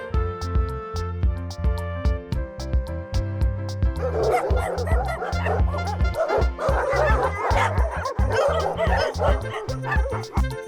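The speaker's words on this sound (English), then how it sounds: "D is for dog" A dog barks repeatedly in quick, excited bursts over ongoing background music, the barking filling the second half.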